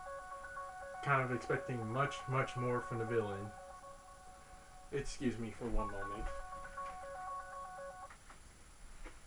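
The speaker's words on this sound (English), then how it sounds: "Sorry about that. That was my phone." A mobile phone rings in repeated melodic bursts of electronic tones under someone speaking, the ringtone loud and close.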